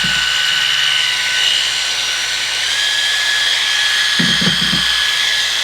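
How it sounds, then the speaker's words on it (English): A PediVac electric callus remover runs with its vacuum on, a steady high-pitched motor whine and airy hum held close throughout, with a brief low rumble of handling near the end. "All the shavings are sucked right up into the collection chamber."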